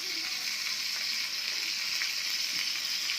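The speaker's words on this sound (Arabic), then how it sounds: "احنا بنحمر اهو، وهوريكم بعد التحمير" Chicken drumsticks and wings deep frying in hot oil, a steady dense sizzle and bubbling hiss held close and loud throughout, with no voices.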